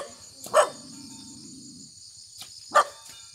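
A dog on a mountain farm where pigs roam free barks twice at them, with the two sharp barks spaced about two seconds apart over a steady chorus of insects.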